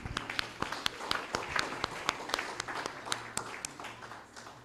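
A research colloquium audience at Nelson Mandela University applauds panelists. The separate hand claps are crisp and distinct, close-sounding and irregular, and they thin out and fade toward the end.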